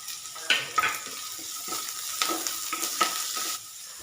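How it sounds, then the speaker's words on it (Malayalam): Chopped onions sauté in a pan for a Kerala-style vegetable kuruma, giving a steady close sizzle broken by several scraping stirs and clinks of a utensil, with no talk. "നമ്മൾ ചെറുതായിട്ട് അരിഞ്ഞു വെച്ചിരിക്കുന്ന സവാള ഇട്ട് കൊടുത്ത് നല്ലതുപോലെ വഴറ്റാം."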